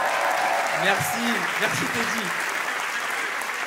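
Audience applause at a French comedy show, a steady broadband wash of clapping that runs the whole time while someone speaks over it near the start.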